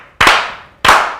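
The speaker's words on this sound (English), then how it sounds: "let's begin the show in the best fashion we know how by slow clapping these beautiful black people in" Two slow, loud, sharp claps about two-thirds of a second apart, each ringing out briefly in a room, welcoming guests onto a talk show.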